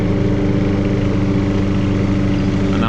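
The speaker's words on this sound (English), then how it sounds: "This is pretty tall grass, and I got the wheels on the mower set on high." A lawn mower runs steadily through tall grass with its wheels set high, a loud, constant engine drone close by with no talking over it.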